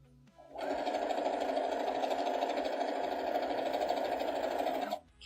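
A sewing machine runs steadily for about four seconds, stitching a quarter-inch seam on a small heart quilt block, a continuous close mechanical whir with no pauses and no voices.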